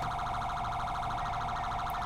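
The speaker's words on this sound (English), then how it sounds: "my other unit, he left his siren on" Police siren from a patrol unit left running during a felony traffic stop in GTA 5 with the LSPDFR mod, a steady wailing tone held throughout, fairly loud and continuous with no talk over it.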